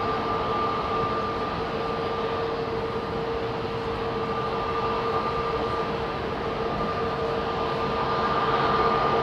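An airliner turning near London Heathrow Airport produces a steady, even engine drone with a couple of sustained whining tones, distant to moderate and constant throughout.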